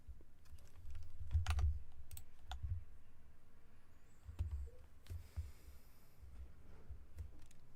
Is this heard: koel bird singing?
no